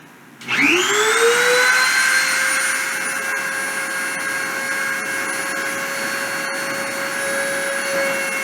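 A deposition machine's spindle spins up to 30,000 RPM with a rising whine that settles into a loud, steady high-pitched tone, heard close with no talking.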